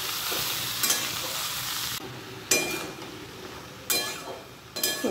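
Vegetables for Bengali shukto frying in a pan, a loud, continuous sizzle broken by a few sharp surges as the pieces are stirred, heard up close with no voices.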